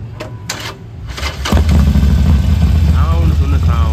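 A motorcycle engine idles close by in a steady low rumble that starts partway through, during the Dasai festival, after a brief stretch of background voices and clatter.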